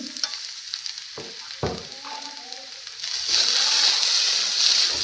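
Dal lentils frying in a pan with turmeric and salt, a couple of stirring knocks and splashes early, then a louder steady sizzle that builds and continues to the end.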